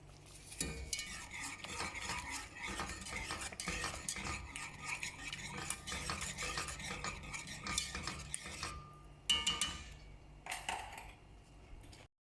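A spoon stirs creamy mushroom gravy in a pan, scraping and clicking in a quick, continuous rhythm for several seconds, then a pause and a few last separate scrapes; quiet and close, no talking.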